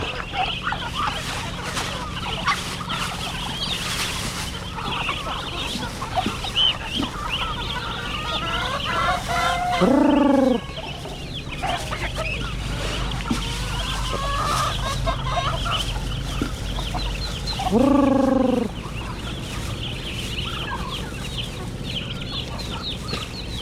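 Young chickens moved into a larger new coop cluck and chatter steadily in a busy background, with two louder, nearer calls rising above the flock partway through.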